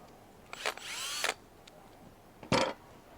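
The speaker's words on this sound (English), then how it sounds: "I've got a drill." A power drill whirs in two short bursts, the first revving up and holding for under a second, the second a quick spin.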